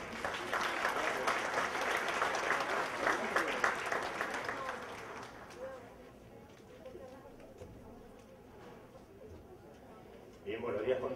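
An audience at a formal session applauds loudly to welcome a speaker, a foreign trade policy expert. The clapping is strongest at first, then fades over several seconds into quiet room tone before a voice begins.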